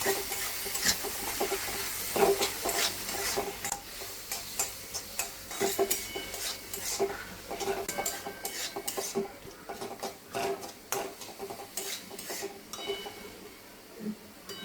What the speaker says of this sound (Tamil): நல்லா கலரி வதக்கிக்கோங்க